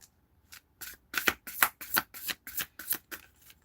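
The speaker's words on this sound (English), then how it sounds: "Okay, shuffle." Tarot cards are shuffled in a rapid, rhythmic series of about a dozen close, crisp riffling bursts.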